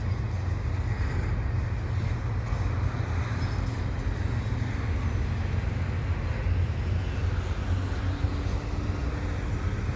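A CP freight train hauling a CM&Q engine rolls past near a bike path in Dorval, giving a constant loud low rumble and roar that holds steady throughout, with no voices.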